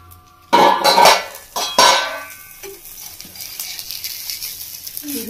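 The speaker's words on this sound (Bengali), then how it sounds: "এবার আমি ঢাকাটা খুলে নিচ্ছি" A lid lifted off a pan of soru chakli pitha, a batter of rice and kalai dal, gives two sharp metallic clattering bursts close by, then quiet background.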